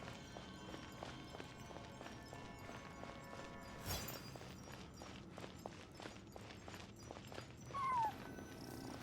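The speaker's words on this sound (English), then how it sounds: "I followed the cat's cries to find my way out." A cat in Genshin Impact mews among soft game ambience and faint clicks, its cries quiet and intermittent over a low, steady background.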